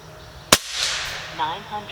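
A single sharp crack from an FX Dynamic .35 caliber air rifle firing a cast lead slug, followed by a faint trailing ring and a brief voice murmuring in a quiet setting.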